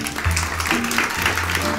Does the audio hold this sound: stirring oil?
no